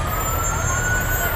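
A Vital Care ambulance siren sounds loudly and steadily at close range as the vehicle rolls through the 2021 Campbell County, Tennessee Christmas parade.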